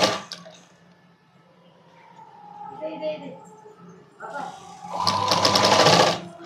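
A sewing machine stitches a padded blouse, its motor running in short bursts between pauses. A loud, dense run of stitching comes near the end. Someone talks over part of it.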